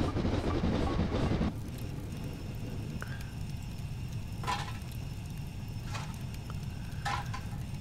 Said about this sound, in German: Wir haben wieder Gegenverkehr. Ah, er fährt durch.